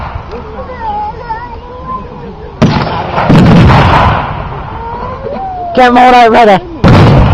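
German mortar troops firing across a field at a World War II reenactment: heavy, sharp blasts break out in bursts while nearby spectators talk and call out over the noise.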